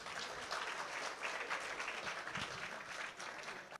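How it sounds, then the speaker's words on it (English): Audience at a gala dinner applauding, a dense, steady wash of clapping for nearly four seconds, heard from a distance and at a low level. "I think she needs a round of applause as well"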